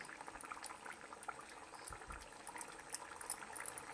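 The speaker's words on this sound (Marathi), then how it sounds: "ह्याला चांगली अशी उकळी काढून घ्यायची आहे" Quiet, steady bubbling and popping of a thick spinach paneer gravy simmering in a pan, with soft irregular blips throughout.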